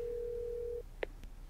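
A telephone ringback tone plays as a number is dialed: one steady held tone for most of a second, then it cuts off, followed by a couple of faint clicks.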